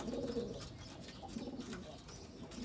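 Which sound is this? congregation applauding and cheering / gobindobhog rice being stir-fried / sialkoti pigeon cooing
sialkoti pigeon cooing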